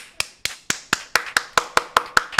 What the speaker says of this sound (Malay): Bagi tepukan